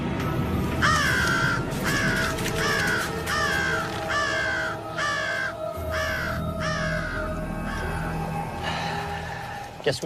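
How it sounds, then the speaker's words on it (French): A crow caws repeatedly in a forest, eight or nine harsh calls in an even rhythm, fairly close, over a low steady background rumble. "On ferait mieux de chasser le corbeau."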